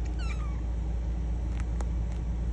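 Young kittens give a few short, high meows close by over a steady low rumble, with faint brief squeaks later on.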